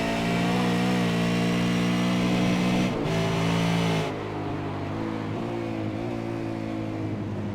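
A V8 Supercar races around Donington Park circuit, its loud engine holding a steady high drone, briefly dipping as it shifts, then settling lower while still close and prominent with no voices.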